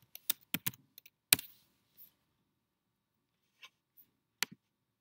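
Computer keyboard keys clack as a quadratic is typed into a graphing calculator, a quiet, close burst of irregular taps followed by a few scattered keystrokes alone.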